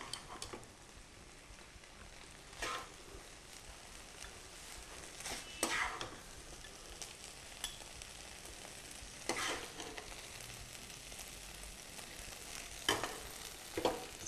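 Kabuli rice tossed and blended with the back of a spoon, giving soft scraping stirs and occasional sharper scrapes of metal against the pan, steady and close with no talking.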